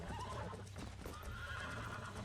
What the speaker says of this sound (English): Kind of funny how they introduce you to breaking a horse in this one.